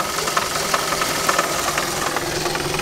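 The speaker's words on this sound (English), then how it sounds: "There's a little magneto spinning away." Engine of a 1922 Aston Martin running with its magneto spinning at a vintage car meet, a steady close mechanical clatter with a rhythmic ticking knock, heard alone.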